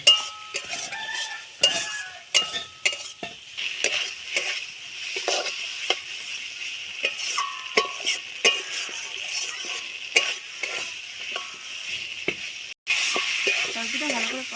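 Vegetables frying with ginger cumin paste, stirred with repeated sharp clinks and scrapes of a utensil against the pan over a faint sizzle, with a voice speaking at times.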